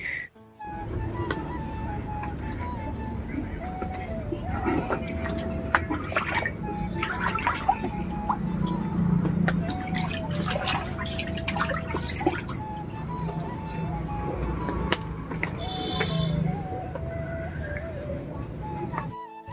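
Running tap water and splashing while a face is washed after teeth brushing at a flood-hit home, faint and steady with scattered drips and splashes and a few breaths.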